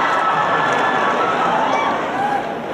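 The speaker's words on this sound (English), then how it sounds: "I love this freaking crowd, man." A large convention hall crowd at a Comic Con panel cheers in a steady, loud, dense roar of voices that tapers slightly at the end.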